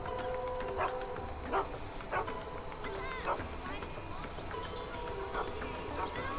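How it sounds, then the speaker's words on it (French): A dog barks several times in short bursts in the game GTA V, while someone talks over it. The barks are set against busy in-game ambience with a steady background drone. "J'entends bien un chien, il est où?"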